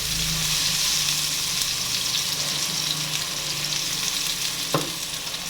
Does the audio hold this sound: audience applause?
no